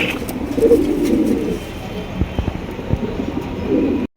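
Rain pigeons coo close by at a busy pigeon market, with low repeated coos at the start and end and other bird calls and faint market noise in between.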